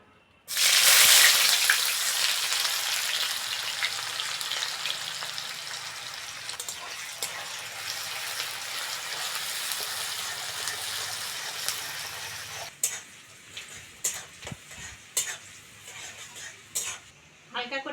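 Chopped onion hits hot mustard oil with a little sugar in a kadai, bursting into a loud, close sizzle that stays strong and steady, then gives way to intermittent clanks and scrapes of a utensil against the pan.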